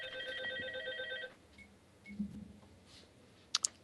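A telephone bell rings in a rapid, bright trill for just over a second, then stops, leaving a quiet room with faint low movement and a couple of sharp clicks near the end.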